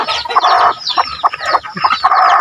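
A chicken clucks loudly and close by, in quick repeated bursts with short gaps and no talk.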